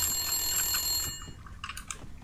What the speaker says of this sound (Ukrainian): А де то телефон дзвонить